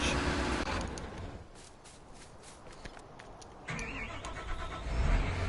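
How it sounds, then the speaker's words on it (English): A John Deere logging tractor engine in a video game cranks and catches, followed by a steady low idle rumble with a louder rev near the end. "Put this engine startup sound on all the other logging John Deere tractors"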